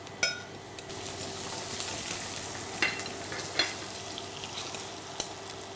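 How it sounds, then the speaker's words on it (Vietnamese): Chopped tomatoes sauté in a pan with garlic and shallots for a tomato meatball soup, giving a steady close sizzle with occasional stirring scrapes and light utensil taps, no talk. "Sau đó thì mình sẽ xào cà chua."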